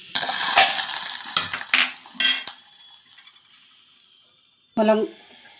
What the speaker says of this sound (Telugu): తెల్లుల్లిపాయలు కరివేపాకు మళ్ళీ వేపి వేస్తున్నాను.